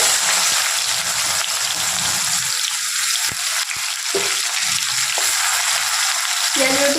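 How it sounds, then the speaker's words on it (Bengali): Chopped onions browning in oil in a pan give a loud, continuous close-up hiss of frying that holds steady for several seconds, with a few faint clinks and no talking. "পেঁয়াজটা আমি বাদামি করে ভেজে নিয়েছি"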